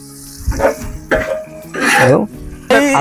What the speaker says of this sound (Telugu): మసాలాలు మంచిగా ఫ్రై అవుతున్నాయి